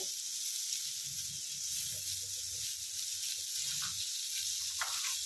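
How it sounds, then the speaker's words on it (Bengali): Chopped mango sizzles quietly in a hot pan for chutney, a soft continuous hiss with a few low stirring knocks underneath. "এটাকে একটু ভেজে নেব।"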